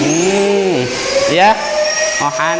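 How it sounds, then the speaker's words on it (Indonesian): A vacuum cleaner's whine rises and falls in pitch as the motor revs up and down, with a voice speaking briefly over it. "vakum ya, mesin vakum atau penyedot debu"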